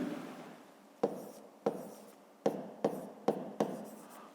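A pen scratching across paper while noting a volume answer for a grade 5 math exercise, six short strokes at irregular intervals, each opening with a light tap, close and quiet with no voices.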